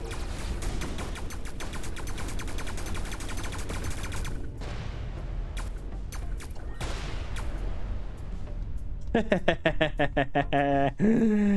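Ship weapons in Everspace 2 fire at a mine and destroy it. Dense, steady rapid fire runs for several seconds, then scattered bursts follow and a harsher, tonal blast closes the sequence.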